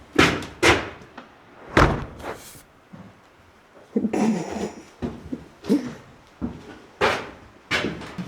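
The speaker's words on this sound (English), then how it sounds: "I closed the door." A door shut in a cold, unfinished house in the mountains, heard as a series of close, sharp thumps and knocks separated by brief pauses, with faint shuffling between the impacts.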